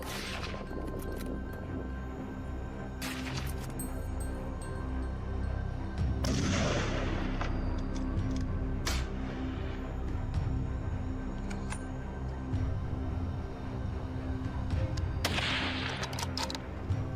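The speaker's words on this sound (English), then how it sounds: "Another shot rings out, dry and sharp in the frigid air" Sharp, dry rifle shots crack out during a wild boar hunt on snowy, frigid ground, several separate reports spaced through the clip over a steady outdoor background, with no voices.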